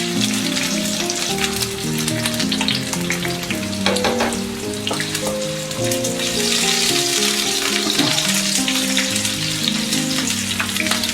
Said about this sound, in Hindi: अब हम इस फ्राई पैन में कुकिंग ऑयल, आधा कप प्याज जो हमने पहले से भी थोड़ी लाइट ब्राउन करके रखी हुई थी,